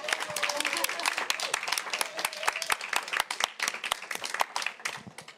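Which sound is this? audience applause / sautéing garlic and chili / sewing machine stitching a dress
audience applause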